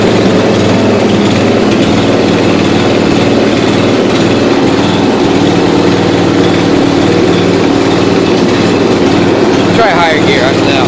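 A 1992 Yard King lawn tractor, started for the first time in seven years and sitting on flat tires, runs with a loud, continuous engine drone close by, and a voice can be heard over it.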